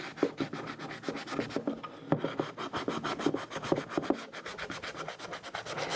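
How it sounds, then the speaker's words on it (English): Sanding block held almost flat and rubbed over cerise paint, a steady rhythmic back-and-forth scraping in repeated close strokes, quiet and alone. "I'm holding my sanding block almost flat."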